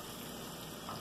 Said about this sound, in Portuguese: A gente vai fritar o alho e a cebola.